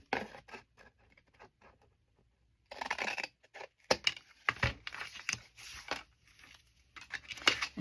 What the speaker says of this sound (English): And I'm going to cut this flap off.